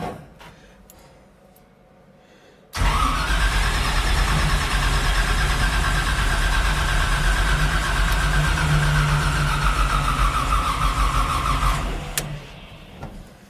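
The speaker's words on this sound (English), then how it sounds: "Starter test." A 1957 delivery truck engine is cranked by its starter for roughly nine seconds, a loud, steady, droning grind that starts abruptly after a quiet stretch and cuts off near the end.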